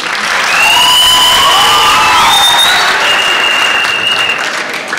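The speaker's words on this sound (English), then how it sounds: "Let us give them a hand of applause." A student audience at a university vice-presidential debate in Kenya bursts into loud, sustained applause, with cheering and shrill whistles rising above dense clapping that continues throughout.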